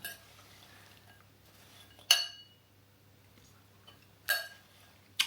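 A spoon stirs apple, walnut and cinnamon cake filling in a bowl, giving two sharp, close clinks against the rim a couple of seconds apart over soft scraping and a low, steady background hum.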